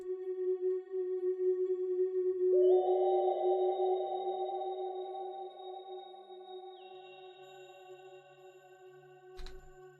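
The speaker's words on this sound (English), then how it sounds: "What we're gonna be doing from here on is adding some reverb." A steady tonal synth pad swells and then trails off into a long, washy reverb tail, ending with a short click.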